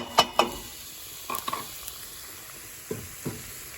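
Shallots going into a pan with garlic, giving a quiet sizzle with a few sharp stirring clicks and scrapes up close, no voices.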